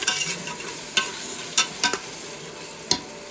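Onions, tomato and mint fry in a pan for mutton biryani with a soft, steady sizzle, punctuated by several sharp scrapes and clacks of a spoon stirring against the pan.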